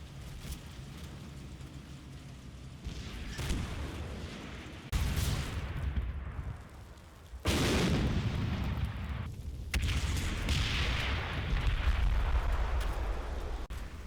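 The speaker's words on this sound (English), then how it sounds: "The 2 remaining mortars of the mortar platoon help shut down this approach." Mortar barrage firing in Combat Mission Final Blitzkrieg, a World War II strategy game: repeated heavy booms and blasts, loud and close, with sharp onsets landing every few seconds over a continuous rumbling battle din.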